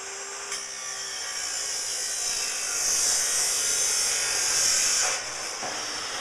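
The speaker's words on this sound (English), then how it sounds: "we've got our top track in the chop saw, and we're just going to cut that to length." A metal chop saw cuts a length of curtain top track, a loud sustained high whine and hiss of blade on metal that swells midway before easing.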